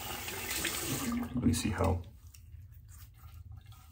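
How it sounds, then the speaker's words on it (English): Cold water runs from a tap into a sink for a quick rinse, a steady splashing flow that cuts off about halfway, leaving faint drips while a person speaks. "now, quick cold water rinse"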